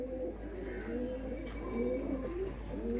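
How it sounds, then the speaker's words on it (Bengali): Punjabi pigeons with blue eyes coo in a loft, several soft, overlapping throaty coos repeating steadily at close range with no talking. "এগুলো সব কিন্তু ব্লু আইসের পায়রা"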